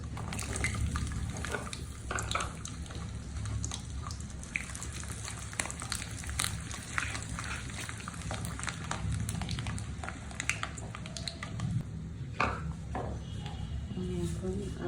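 Dried chillies and whole garlic cloves frying in hot oil for a chilli-garlic pickle, giving a steady loud crackling sizzle throughout with sharp pops scattered across it, and a voice talking over the cooking.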